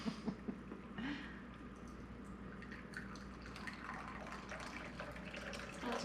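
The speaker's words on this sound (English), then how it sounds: "it's just poured into a glass" A cocktail poured into a glass, a soft, quiet trickle of liquid running on for several seconds after a few small clinks at the start.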